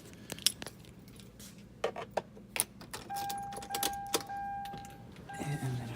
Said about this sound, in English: So I'm gonna put the keys in.